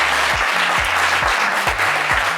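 A TV game show studio audience gives a sustained, dense round of applause, loud and steady throughout, with a low musical tone pattern running underneath.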